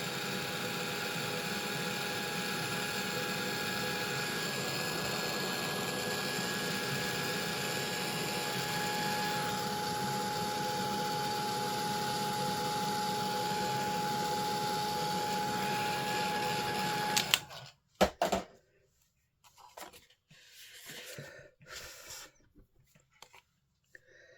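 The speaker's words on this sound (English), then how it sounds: "I just need to blow that because I don't want it running into this grey." A heat tool blows steadily to dry ink on a handmade card, producing a loud, continuous, close whooshing roar that cuts off abruptly and is followed by brief handling noises.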